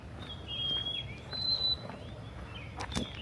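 A small garden bird, not a sparrow, gives thin high whistled calls and short chirps at moderate distance over faint city background noise.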